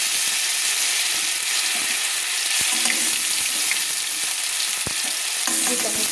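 Ginger-garlic paste fries in a hot pan for chicken changezi, hissing and sizzling loudly and continuously, with occasional scrapes and taps of a spoon against the pan.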